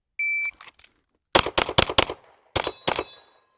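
A shot timer beeps once, then pistol shots ring out at steel targets in two quick volleys, four rapid shots followed by two more, loud and sharp outdoors.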